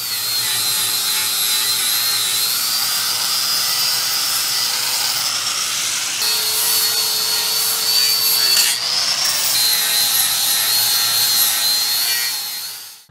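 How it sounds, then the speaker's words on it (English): An angle grinder cuts a small last piece off a steel camper trailer frame, a steady high whine running loud and close for about twelve seconds with small shifts in pitch, and no talking over it. "I don't want to waste another one just to grind this last little tiny piece off"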